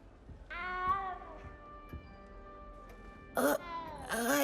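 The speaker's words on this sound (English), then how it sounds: "You don't need to be frightened, little cat." A small cat meows in Hogwarts Legacy, with a long drawn-out meow near the start followed by a couple of sharper, higher cries near the end, close and clear over a quiet game background.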